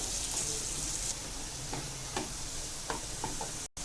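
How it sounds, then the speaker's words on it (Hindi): Sliced onions sizzling in oil in a pan for parwal masala sabji, a steady close hiss with a few soft scrapes of stirring, ending in a brief dropout. "तो चलिए पहले प्याज को हम फ्राई कर लेते हैं"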